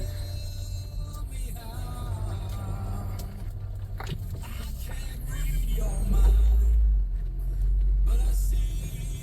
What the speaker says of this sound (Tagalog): Ayan na po ang ibang sasakyan.